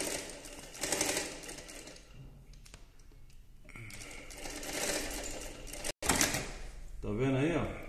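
SA-MQ4 touch-screen sewing machine runs a straight stitch in several bursts of rapid, steady mechanical whirring and clatter, close by, with pauses and a brief click between runs.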